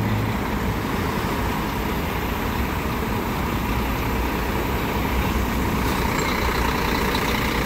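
An Autoviação 1001 intercity coach idles at the Belo Horizonte bus station, a steady, loud engine rumble with broadband station noise and no break throughout.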